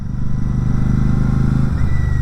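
Royal Enfield Classic 650, a heavy motorcycle of about 245 kg, ridden through traffic, its twin-cylinder engine giving a steady low throbbing rumble close up, with a brief rise in revs near the end.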